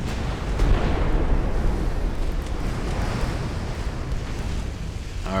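Torpedo exploding against a warship in UA: Dreadnoughts, a deep rumbling blast that rolls on as a sustained low roar like heavy surf, loud and continuous.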